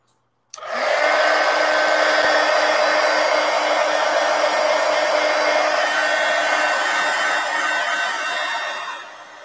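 A hair dryer switches on and blows steadily over an art journal page, a loud, close whir with a constant hum that holds for several seconds before easing slightly.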